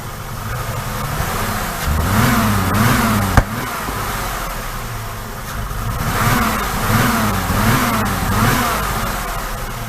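A 2005 Jeep Liberty with the 3.7L engine and a cylinder misfire accelerates in steady, repeated surges that pull low and rough, with a sharp knock partway through and no talking.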